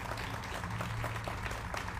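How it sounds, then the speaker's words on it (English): A crowd at an outdoor dog park ribbon-cutting event in downtown Milwaukee applauds with steady, dense clapping that stays even and fairly loud throughout, with no talk over it. "Can we give them a round of applause, please?"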